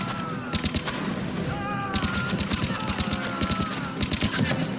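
Turret gunfire from a firefight in the video game Mass Effect 3, rapid bursts of sharp automatic shots in a steady rattling rhythm, loud and continuous over a low rumbling background.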